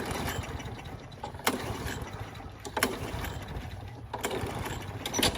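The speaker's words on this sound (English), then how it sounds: "That's how you just blow up the motor on your lawnmower if you don't like it anymore." A lawn mower engine running hard while its motor is being blown up, a rough continuous drone with several sharp bangs and surges, loud and close, with no talk.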